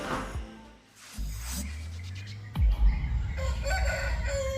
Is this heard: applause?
no